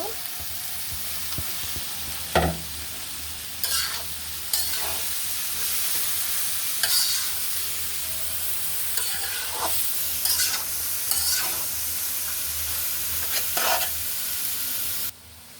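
Vegetables with green chillies sizzle and fry in a pan for vegetable pasta, with a steady loud hiss broken by repeated scraping strokes of a spoon stirring, close up and with no talking.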